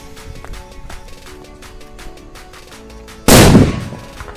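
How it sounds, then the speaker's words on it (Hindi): A large VIP bomb firecracker explodes once in a sudden loud blast that fades quickly, after a stretch of quieter outdoor background. "सो गाइस, अब हम टेस्ट करने वाले हैं इस वाले बड़े वाले वीआईपी बॉम्ब को"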